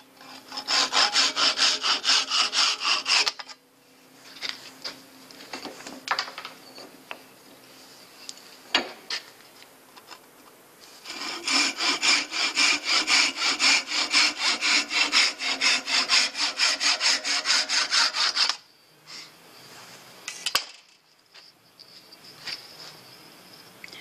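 A wood lathe turns a file handle with a drive spur, the gouge cutting with a loud, rough, continuous scraping in two long stretches separated by quieter pauses, close and without talk.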